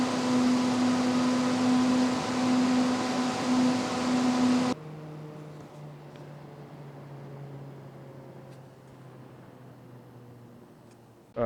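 PC case fans with hydraulic and FDB bearings spinning at full speed, a loud steady whoosh with a strong hum that drops abruptly to a much quieter whir partway through.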